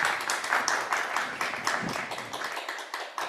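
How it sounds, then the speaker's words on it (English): An audience at a talk on Gaza and humanity claps together, a lively even patter of many hands that gradually thins toward the end. "Let's clap."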